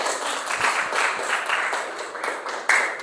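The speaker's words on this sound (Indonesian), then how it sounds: "Berikan tepuk tangan ya untuk kelompok" A classroom group applauds a student group after their presentation, a short burst of scattered hand claps at moderate level with a few sharper individual claps standing out.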